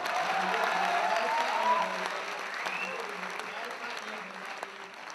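An audience at a Hindi comedy and poetry show applauds, a dense, steady clapping throughout that fades slightly toward the end, with faint voices underneath.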